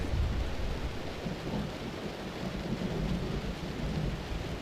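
Thunder from a storm rolls as a steady, low broadband rumble mixed with rain noise, filling the whole stretch at an even loudness with no voices.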